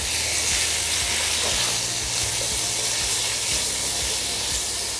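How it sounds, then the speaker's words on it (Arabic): Sliced chicken with garlic frying in about two spoonfuls of oil, a loud continuous sizzle and hiss close up with occasional stirring scrapes. "وحطينا قلينا الثوم معاهم، ونحط الدجاج، ونحط هلا الدجاج متقطع شرائح"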